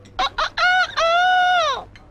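A rooster sound effect gives two short clucks, then a loud, drawn-out crow close by in a comedy scene set in a hotel.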